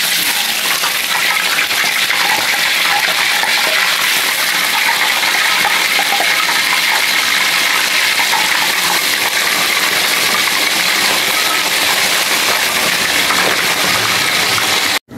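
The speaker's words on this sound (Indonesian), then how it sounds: "Lalu kita goreng lelenya ya sampai matang" Catfish frying in plenty of hot oil, a loud, steady broadband sizzle that holds almost unchanged for the whole stretch, close to the pan, with no talking.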